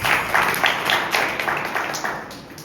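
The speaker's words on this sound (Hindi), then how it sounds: "इस सिस्टर के लिए जोरदार ताली" Audience clapping for a sister at a Hindi-language Christian church gathering, a steady patter of many hands filling the room at moderate loudness with no voices over it.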